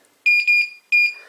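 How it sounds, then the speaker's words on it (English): Two electronic beeps from an OTIS Gen2 elevator direction indicator button, the first a double-pulsed tone and the second a single steady tone, loud and close in a quiet room. "press it a little bit more and it beeps"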